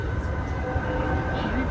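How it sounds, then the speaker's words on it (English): A passenger train between London and Portsmouth rumbles steadily along the rails, a low continuous roll heard from inside the carriage. "this train just moves on itself"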